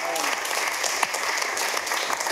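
A crowd applauds and cheers at a gospel music show, with steady, dense clapping and scattered voices and whoops sustained throughout.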